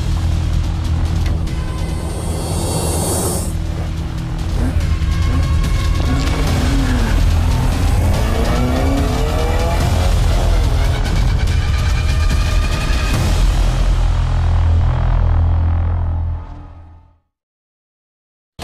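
Racing cars speed past in a loud, continuous engine roar with whining, shifting tones, tire squeal and a brief whoosh, building steadily before cutting off abruptly into silence.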